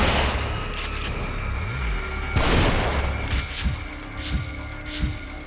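Shotgun blasts in The Evil Within, a few heavy booming shots spaced seconds apart, loud and echoing over a low droning background.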